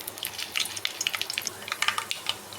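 Dried red chillies tempering in hot oil with cumin and mustard seeds for a potato curry, giving a light, steady crackling sizzle with scattered pops, close and fairly soft, no talking.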